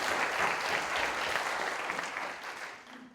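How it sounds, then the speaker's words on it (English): Audience applause for the sponsors at a startup competition grand finale, a dense, steady wash of clapping from a large crowd that fades slightly toward the end. "Let's give them a round of applause."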